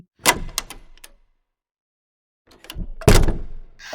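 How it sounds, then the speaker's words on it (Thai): Bathroom door opening as a sound effect: a latch click and brief rattle, a silent pause, then a heavier thunk and scrape as the door swings and settles, close and clear with no voices. "เปิดประตูเข้าห้องน้ำไป"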